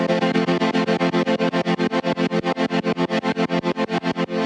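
A buzzy, distorted synth chord chopped into rapid, even pulses by a sidechain gate, each hit cutting off sharply in a steady driving rhythm.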